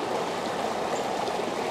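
Steady burbling creek water runs close by near a flower garden, an even, continuous flow with no talking.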